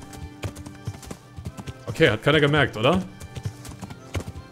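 Horse hooves clip-clop in a steady rhythm in Kingdom Come: Deliverance behind a person talking, with a short burst of louder speech in the middle.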